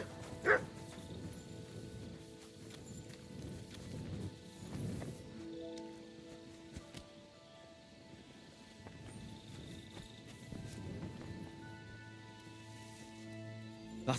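The dog Mutt barks in Kingdom Come: Deliverance 2, giving a few faint woofs and whimpers amid quiet game ambience, with a sharp sound near the start.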